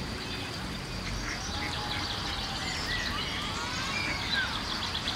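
Ducks quack intermittently at a distance over a steady outdoor ambience, with faint insect or bird sounds mixed in.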